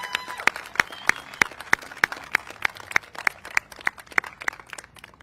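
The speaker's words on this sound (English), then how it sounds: "Can I get another round of applause for our students?" Clapping for students at an Italian flag raising ceremony, with sharp, evenly spaced claps from a small group, fairly close and clear, and no talking.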